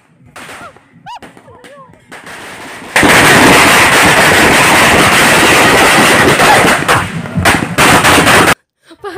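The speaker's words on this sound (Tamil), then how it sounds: "இப்போ பாருங்க அவங்களே பட்டாசு வெடிக்க போறாங்க" Firecrackers burst during a temple festival procession, a loud dense crackling barrage lasting several seconds after quieter crowd sounds, ending abruptly with a few later pops.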